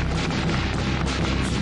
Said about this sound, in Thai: เฮียจุดประทัดใกล้ข้านะ